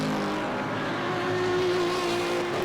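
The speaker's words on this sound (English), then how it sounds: "And Artan trying to go around the outside of Steve van Bellingen into the chicane, spins out." Porsche race car in a Supercar Challenge race spinning out at a chicane, a steady loud engine drone with tonal whine and some tyre noise, other engines blending in throughout.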